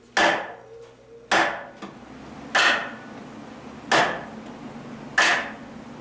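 Cold Steel Espada Tri-AD lock folding knife struck spine-first against wood in five sharp, evenly spaced whacks about a second apart, each loud and close with a short ringing tail, no talking.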